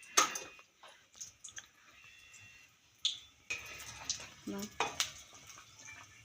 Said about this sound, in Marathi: मस्त तळतोय आपला पहिला वडा